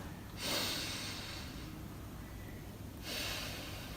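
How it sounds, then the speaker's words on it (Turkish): Two long, airy breaths drawn in through the nose, separated by a quiet pause, close to the microphone with no talking. "Öncelikle burun yoluyla 5'e kadar sayarak nefes alacağım."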